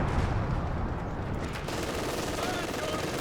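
Heavy DShK machine gun fire in a Company of Heroes 2 battle, sounding as dense, continuous rattling bursts mixed with other gunfire and explosions throughout, loud and unbroken.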